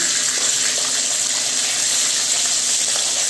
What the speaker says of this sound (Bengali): বেশি ভাজতে হবে না মাছগুলো, হালকা করে একটু ভেজে নিতে হবে।